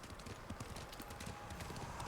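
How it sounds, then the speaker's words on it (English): Horse hooves clip-clop steadily at a trot in the video game Ghost of Tsushima, a dense rhythmic patter set against game ambience. "Horse!"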